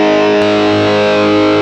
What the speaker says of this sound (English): Let's bring back the high gain distortion.